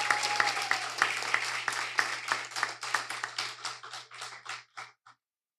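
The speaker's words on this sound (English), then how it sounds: "I want us to give a round of applause" An audience claps after a school debate, a fairly sparse round of applause with distinct individual claps that thins out and fades to a few last claps over about five seconds, with a low steady hum underneath.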